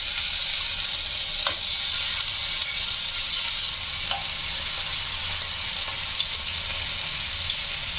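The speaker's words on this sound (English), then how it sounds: "what I'm going to do now is I'm just going to be frying my chicken" Chicken pieces sizzle in hot cooking oil in a pan for butter chicken, a loud, steady crackling hiss with a few small pops throughout.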